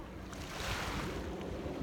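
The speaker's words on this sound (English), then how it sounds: "sound of the waves" Ocean waves washing onto a quiet beach, a steady broadband surf wash with some wind noise on the microphone, continuous and fairly soft with no voices.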